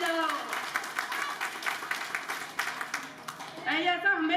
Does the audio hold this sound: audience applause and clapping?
yes